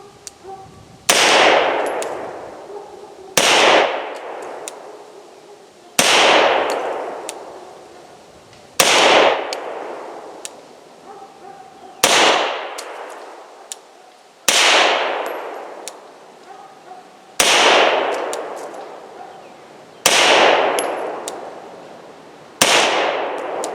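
A Beretta M9A3 pistol fires ten loud, sharp shots spaced about two to three seconds apart, each crack ringing out and decaying outdoors, with no talking.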